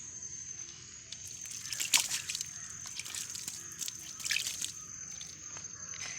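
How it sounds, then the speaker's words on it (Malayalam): Water trickles and drips into the soil of a newly potted Aralia plant, with soft splashing bursts that swell twice before easing off, steady and close. "നമുക്ക് നന്നായിട്ട് നനയ്ക്കാം"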